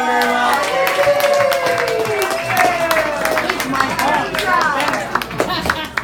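A crowd's round of applause at the close of a political debate: dense, continuous clapping from a room full of people, with a voice talking over it throughout.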